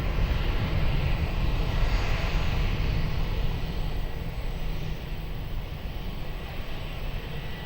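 A Ryanair airliner takes off at Lisbon Airport, a broad, steady engine roar heard from a distance, loud at first and easing slightly as it continues, with no voices.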